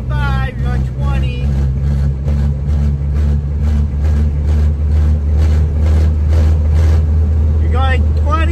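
A 1979 Plymouth Arrow with a built 2.6 engine cruises along, its loud, steady low drone with a pulsing exhaust note running throughout while someone talks over it.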